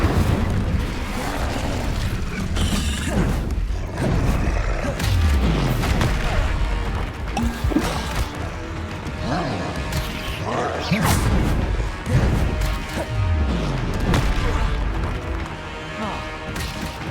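Fire spells cast in Hogwarts Legacy come as repeated whooshing bursts and booming impacts with crashes, packed densely over dense game music and effects throughout a busy combat sequence.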